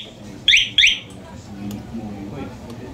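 A Yamaha Nmax scooter's alarm, tested after repair of rat-gnawed wiring, gives two short, loud electronic chirps in quick succession, followed by quieter background noise.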